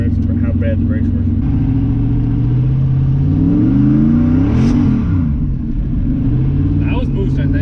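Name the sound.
turbocharged V8 engine revving under boost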